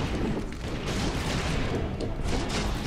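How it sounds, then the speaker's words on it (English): Loud, dense explosive rumble in the Secret Ponchos video game, a continuous roaring boom with crackling gunfire-like bursts sustained throughout, no talk over it. "Look at explosion."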